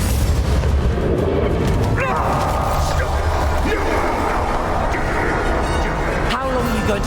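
Spell explosions from the Confringo curse in the video game Hogwarts Legacy during a fight with the dragon Ranrok, several booming blasts over a continuous roar of battle noise, with a voice calling out spell names.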